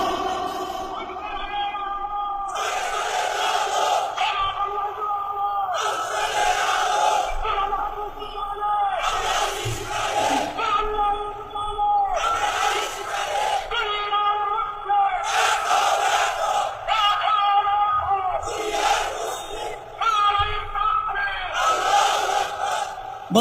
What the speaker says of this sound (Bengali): কারা কারা পারবেন হাত তুলে আওয়াজ করুন লিল্লাহি তাকবীর, লিল্লাহি তাকবীর